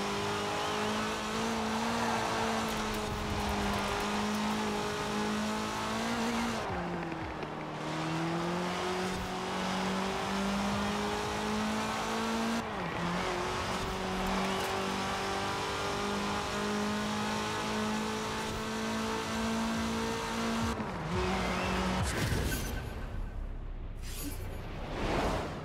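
A Porsche race car laps a test track in Forza Horizon 4, its engine droning at high revs with brief dips and shifts, steady and close, ending in a fading whoosh.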